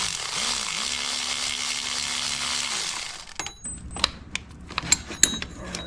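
Bolts on an Acura TL 3.2 VTEC alternator are driven tight, first by a whirring power tool buzzing for about three seconds, then by a string of sharp ratchet clicks and metallic taps.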